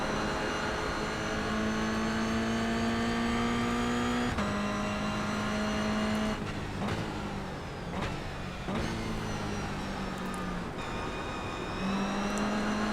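A Toyota GR86 race car at speed in a GR86 Cup race, its engine droning loud and near with steady high tones that dip and rise through gear changes and lifts, plus a squeal-like tonal edge from the oversteer.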